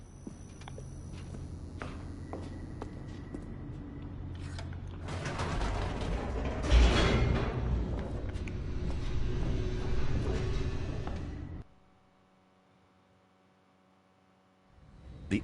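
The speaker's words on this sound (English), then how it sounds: "The elevator raced downward" An elevator racing downward in The Stanley Parable, a steady mechanical rumble with creaking, ratcheting clanks that swells into a loud rattling descent, then cuts abruptly to near silence before a faint return.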